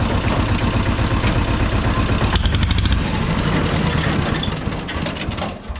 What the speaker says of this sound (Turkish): Bak debriyaja bastım ayırmadım motor stop etti